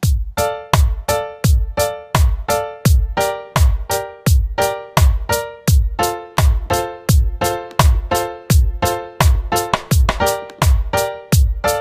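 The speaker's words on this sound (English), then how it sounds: "next part is the piano, which is a typical reggae rhythm which is played on every second beat" Clipped piano chords strike in a steady offbeat reggae skank, short bright stabs repeating evenly with a thumping low beat underneath, loud and alone.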